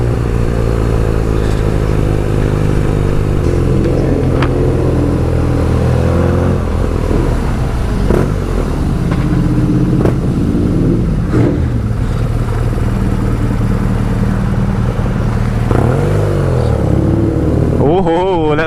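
A BMW R nineT motorcycle rides along a leaf-strewn country road in the Cotswolds, its engine droning loudly and continuously with shifting revs and wind noise throughout, while a rider talks over it.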